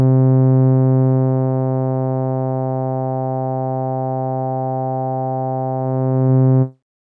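A sustained synth note through the Reason Europa filter with its resonance boosted at the cutoff point, giving a steady, pure, whistling tone that holds for several seconds and then cuts off abruptly.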